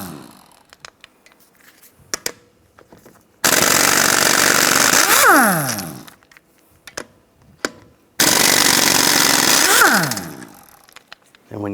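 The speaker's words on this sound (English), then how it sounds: "use a 17mm socket, take the lug nuts off" A 17mm socket on an impact gun spinning lug nuts off a BMW 328i xDriven wheel: two long, loud rattling bursts that wind down with a falling whine, separated by quieter clicks and clanks of handling.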